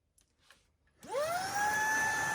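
An iRobot H1 handheld cordless vacuum switches on after a few faint knocks, its motor whirring up quickly to a steady, loud high-pitched whine.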